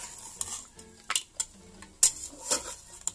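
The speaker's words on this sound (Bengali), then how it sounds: "এখন আমি এটা ভালোভাবে মাখিয়ে নিব।" Pieces of goat leg are mixed by hand with cardamom, black pepper and oil in a bowl, giving close, soft wet squelches punctuated by several sharp clicks and scrapes, with no talking.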